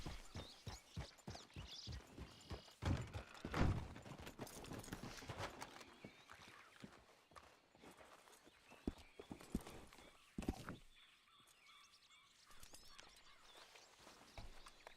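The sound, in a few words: horse hooves clip-clop, from a video game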